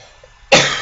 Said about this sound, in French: parce que je tousse un peu